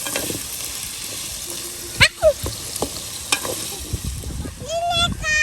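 Potatoes lightly frying in a pan for beef biryani, a soft steady sizzle with a few scraping stirs and clinks, while voices talk nearby.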